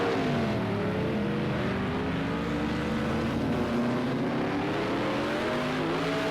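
Group C race car engines on the Nurburgring GP circuit in Project Cars 2 on Xbox drone loudly and continuously, pitches rising and falling as the cars accelerate and shift, with no speech.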